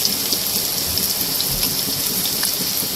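Okra pieces frying in hot oil for crispy bhindi, giving a steady, dense crackle and sizzle throughout with no pauses and no voices.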